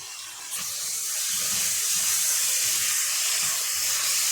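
Meat sizzles in a pot with salt, cardamom and pepper, a loud, steady hiss that swells after a brief start and keeps crackling evenly throughout with no talk.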